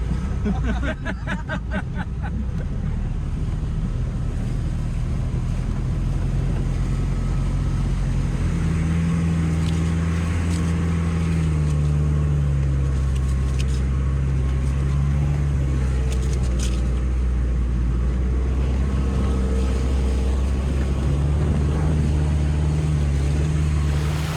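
A Jeep XJ 4x4 on off-road trails in Thailand, with a suspected transfer box problem, gives a steady low engine drone throughout, with a few clicks early on and faint voices in the background.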